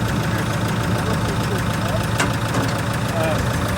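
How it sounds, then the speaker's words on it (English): The engine of a Bandit 15XPC wood chipper runs steadily at idle, loud, with a rough, knocking rumble and constant mechanical noise throughout. "You're gonna hear this engine RPM drop on that first bump"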